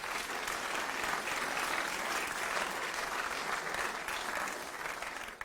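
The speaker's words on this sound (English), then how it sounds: "Please give them a round of applause" Audience at an ethical investment awards event gives a round of applause, a thick, continuous wash of many hands clapping at steady volume that tapers slightly near the end.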